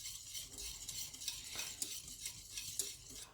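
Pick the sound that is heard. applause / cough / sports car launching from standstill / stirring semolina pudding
stirring semolina pudding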